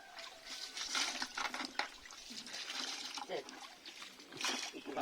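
Water is poured and splashes in uneven surges and trickles, with people talking over it throughout.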